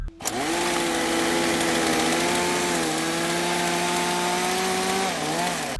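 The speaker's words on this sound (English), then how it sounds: "they hear a chainsaw" A chainsaw in a horror film runs steadily at a high buzzing whine, holding pitch before dipping briefly near the end, loud and close.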